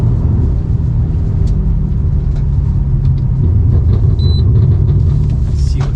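A BMW F90 M5 with a Stage 2 tune and methanol injection launches hard and bogs, a heavy low rumble close by that stays steady and never builds into a clean pull.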